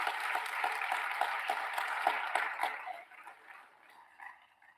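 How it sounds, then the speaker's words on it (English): Graduation ceremony audience claps in a dense burst of applause that thins out and fades toward the end, heard from some distance without voices. "Let's give yourselves a hand clap."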